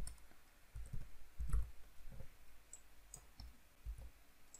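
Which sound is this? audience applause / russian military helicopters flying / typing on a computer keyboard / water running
typing on a computer keyboard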